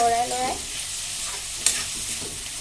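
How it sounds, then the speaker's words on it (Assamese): Meat seasoned with turmeric and salt fries in a pan as a spoon stirs it, giving a steady sizzle with a few scraping strokes and one sharp clink, no talking. "মাংসখিনি চিমত দি ধুনীয়াকৈ এনেকৈ"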